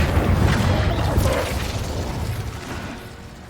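An Incendio fire spell cast in the video game Hogwarts Legacy bursts out as a loud, deep whooshing boom that rolls on and slowly fades over a few seconds, with no voices over it.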